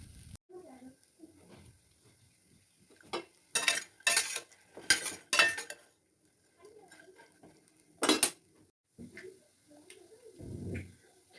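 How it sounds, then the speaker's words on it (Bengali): A spatula scraping and stirring food in a pan, with several bursts of metallic scraping clustered close together, then single strokes separated by quiet gaps and soft voices between them. "দেখুন এরকম খুন্তিটা চালাতে হবে বারবার, যাতে করে নিচে লেগে না যায়, পুড়ে না যায়।"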